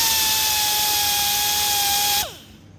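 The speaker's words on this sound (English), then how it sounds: "Now I'm going to hit it with the MX wheel, Crate X." An abrasive wheel buffs burrs off 350 small-block Chevy connecting rods, a steady high whine with a bright tonal ring held close and loud, then spinning down and fading near the end.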